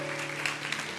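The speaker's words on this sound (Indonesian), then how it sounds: "Kasih tepuk tangan untuk Tuhan." Church congregation applauding together inside a worship service, a steady dense wash of clapping with a sustained musical tone underneath, continuous and fairly even throughout.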